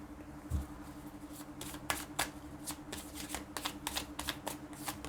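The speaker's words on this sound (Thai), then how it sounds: "แม่หมอขอ ตัดไพ่" A tarot deck is shuffled and cut by hand at close range, a series of quiet crisp riffles and card slaps in irregular bursts over a faint steady hum, with no talking.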